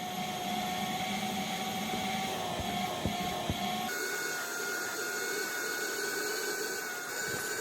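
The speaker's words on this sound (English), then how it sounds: "Alright, now we're going to start vacuuming." Vacuum cleaner with a crevice tool working over a car floor mat, a steady faint whine and hiss with a few light knocks, the tone shifting partway through as the nozzle moves.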